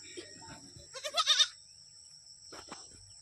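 A young goat bleats a few quick, wavering cries up close, then calls once more after a brief pause, beside a rice field during harvest.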